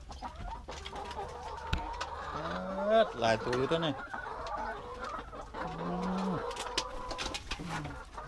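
Laying hens on a rural farm cluck and coo steadily throughout, with several birds calling close by and overlapping, while a person speaks intermittently over the flock.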